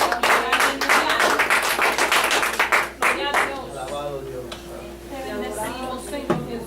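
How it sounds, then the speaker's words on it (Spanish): A church congregation bursts into brisk, rapid clapping for about three seconds, then the applause stops and a voice carries on speaking over a low room hum. "Denle un fuerte aplauso al Señor."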